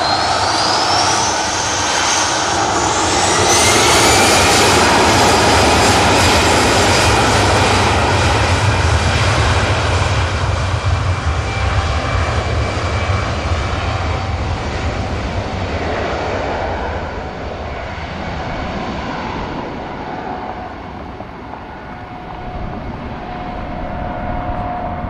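An EasyJet jet airliner takes off for Paris, its engines roaring loudly and steadily up close before slowly easing off as it climbs away, with a rising whine riding over the broad rumble.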